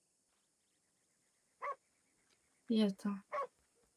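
A dog in the Western video game Red Dead Redemption barks a few short, faint yips, one alone and then a quick cluster, amid quiet talk.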